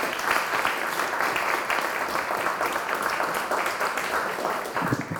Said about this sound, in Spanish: y un aplauso para nuestros panelistas.